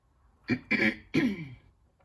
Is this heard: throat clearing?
yes